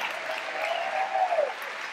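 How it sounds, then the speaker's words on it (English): An audience at a Martin Luther King Day event claps steadily as a speaker comes to the microphone, a continuous, moderately loud patter that holds for the full two seconds. "let's give him a round of applause as he comes to the mic"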